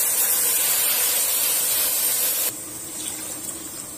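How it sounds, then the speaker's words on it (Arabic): Water pours into rice frying in a pan for cooking, a loud, close rushing hiss for a couple of seconds that drops to a softer bubbling sizzle. "ونزل بالميه برده."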